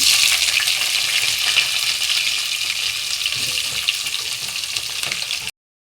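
Onions frying in a pan for Telugu masala pappu, a loud dense sizzle that stays steady and close, slowly easing slightly, with occasional stirring noises and no talk before it cuts off abruptly.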